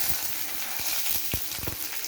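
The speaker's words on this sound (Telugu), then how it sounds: "రెండు ఎండుమిర్చి కొంచెం కరివేపాకు ఇవన్నీ వేసేస్తాను" Oil sizzles and crackles in a pan with dried red chillies and curry leaves for a tempering, a dense hiss punctuated by sharp popping bursts.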